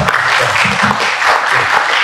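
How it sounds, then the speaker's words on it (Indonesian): Church congregation applauding, a dense, steady wash of clapping with a few low voices underneath throughout. "Tepuk tangan dulu."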